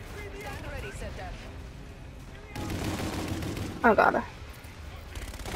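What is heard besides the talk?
gunfire in Call of Duty Infinite Warfare video game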